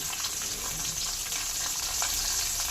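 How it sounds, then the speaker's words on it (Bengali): Dry chilli, bay leaves, whole garam masala and cumin seeds frying in hot oil left from frying prawns, a steady close crackling sizzle with no pauses. "ওই চিংড়ি মাছ ভাজা তেলে দিয়ে দেবো একটা শুকনো লঙ্কা, দুটো তেজপাতা, গোটা গরম মশলা আর গোটা জিরে"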